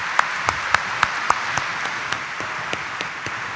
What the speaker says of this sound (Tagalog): iparinig natin sa mahal na Senyor ang ating malakas na palakpak.